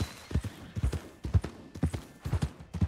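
Horse hooves clip-clopping in the video game Red Dead Redemption 2: close, loud, rhythmic hoofbeats in quick groups repeating steadily as the horse trots along, with no talk over them.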